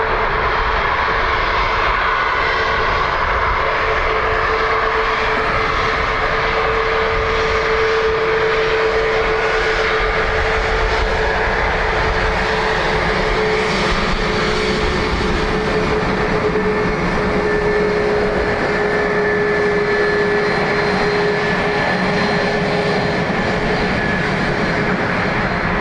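An airliner departs Dublin Airport with a sustained, loud engine roar and a steady whining tone running throughout, close and continuous, with no voices over it.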